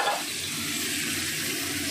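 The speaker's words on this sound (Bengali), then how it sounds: "এবার এঁচোড়টাকে আমি তেলের মধ্যে ভাজবো" Jackfruit pieces frying in hot oil, a soft continuous hiss and sizzle heard close up, fairly quiet and steady throughout, with no talking.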